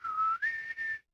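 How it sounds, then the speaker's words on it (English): A video game's short whistle notification: a clean two-part whistled note, rising slightly in pitch for the second half, brief and clear on its own. "For the longest time, my notification was the whistle from the original."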